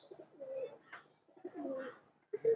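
A pigeon coos softly nearby in two or three low, rolling phrases separated by brief pauses, with faint background noise.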